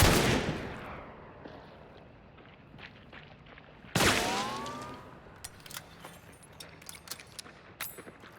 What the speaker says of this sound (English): Why was he firing his gun all randomly?